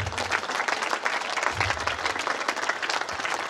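An audience at a church festival celebration at a Velankanni Matha shrine claps warmly, a dense, continuous round of applause filling the space with no speech over it.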